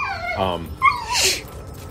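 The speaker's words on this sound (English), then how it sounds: "As the dogs cry." Dogs whimper and yip in a few short, high whining cries, close and clear, with a sharp yelp near the middle and a brief rising whine afterward.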